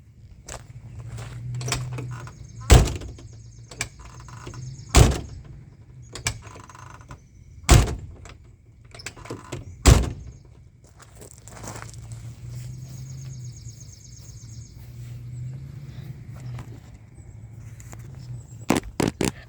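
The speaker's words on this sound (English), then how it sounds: "Watch this door. Don't watch it. Listen to it." Heavy metal door of an old 1950 Chevrolet 3100 truck clunks and slams repeatedly, opening and closing, with creaks and rattles of the latch and hinges between the loud bangs.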